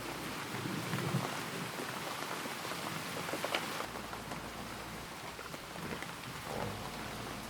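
Steady rain falls on a hard surface, a dense, even patter with occasional heavier splashes and low rumbles, continuous throughout with no voices.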